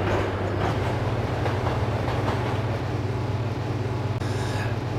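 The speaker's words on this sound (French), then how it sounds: "Allez, on est dans le métro new-yorkais." New York subway train in the Max Payne video game, a steady rumbling ride with rhythmic clickety-clack of wheels on rails, loud and continuous, with a brief hiss near the end and no talking.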